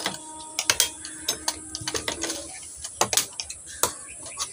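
A sewing machine stitching and lock-stitching a pocket onto trousers: short, irregular bursts of sharp mechanical clicking and needle clatter, close by, separated by brief quiet gaps.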